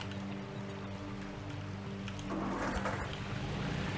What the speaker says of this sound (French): Et on va allumer le moteur.